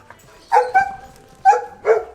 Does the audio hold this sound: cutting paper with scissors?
no